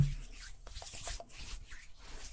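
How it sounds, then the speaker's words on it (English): Bare palms rub together as a simple ASMR hand sound, a close, soft, dry swishing made of a few brisk strokes in a quiet room, with no talking. "It's just a simple hand rub."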